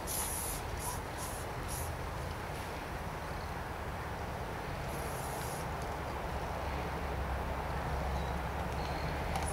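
A steady aerosol spray hisses continuously and fairly close, with a few brief higher bursts near the start and again partway through.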